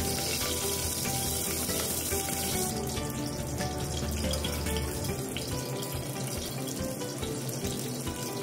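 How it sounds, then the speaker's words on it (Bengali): Onions frying in ghee for shahi paneer, a loud continuous hiss and sizzle with stirring scrapes underneath, close and constant from start to finish. "পেঁয়াজগুলো ভালোভাবে নেড়ে চেড়ে ভেজে নিচ্ছি।"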